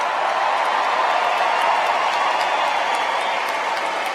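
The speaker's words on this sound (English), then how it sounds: "we please ask that you give a round of applause to the hardest working musicians on the face" A circus arena audience at the final Ringling Bros. and Barnum & Bailey performance applauds the band, a broad, even roar of distant clapping and crowd noise sustained across the whole stretch.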